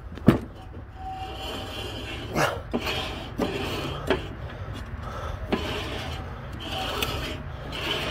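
A worn riding mower blade spindle spun by hand, giving a dry grinding rasp with rough, uneven scraping and a few sharper clicks and knocks, close and fairly quiet, with no talk.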